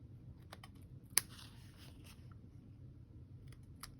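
Scissors snip through excess paper flower stems trimmed around an Easter egg card, giving a few sharp close clicks, one louder cut standing out, over a quiet room with no talking.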